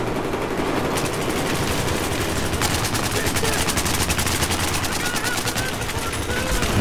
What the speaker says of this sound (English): Everybody was shooting.